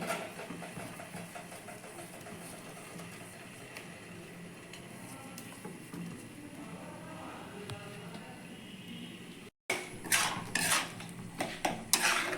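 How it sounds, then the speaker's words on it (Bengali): Chhana is added to thickened boiling milk in a pan for date-jaggery sandesh; soft bubbling and faint clinks of the utensil run steadily, then after a brief gap come louder scraping and clattering strokes close by. "এবার দুধটাকে আমি আর একটু ঘন করবো দুধটা আমার অনেকটাই ঘন হয়ে গেছে এবার আমি এর মধ্যে ছানাটা দিয়ে দিচ্ছি"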